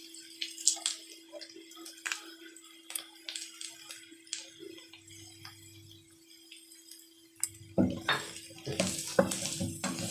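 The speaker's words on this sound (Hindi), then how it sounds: "ये खुश्क मसाले डाल रहे हैं सारे मिला के मिक्स करके।" A spoon mixes dry spices and salt in a pot while cooking potatoes, making sporadic light clinks and scrapes. The sounds are soft and spaced out, over a faint steady kitchen hum, with louder clatter near the end.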